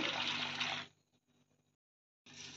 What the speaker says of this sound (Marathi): मुरमुऱ्यांमध्ये मी पाणी टाकून घेते भिजवण्यासाठी